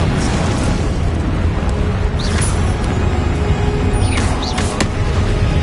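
A spell effect in the video game Hogwarts Legacy, heard as a loud, dense burst of rumbling noise that sustains for several seconds. Brief whooshing accents come over the top.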